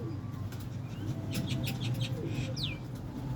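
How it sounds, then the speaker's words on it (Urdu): Ferozpuri pigeons coo softly in a quiet, distant-sounding setting, with faint chirps and a brief wing flutter scattered through low background noise. "یہ میری نظر میں یہ بہترین فیروز پوری کبوتر ہے"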